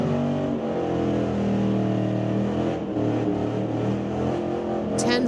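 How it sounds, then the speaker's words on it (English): A 2020 Chevrolet street-legal race car at a drag strip, its engine roaring loud and steady with sustained harmonic drone as it revs and accelerates. "Everett Hoth in the tower lane going against Dower in the 2020 Chev."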